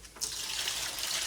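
Water runs steadily into a container of detergent for a foam demonstration, a continuous close splashing hiss with no voices.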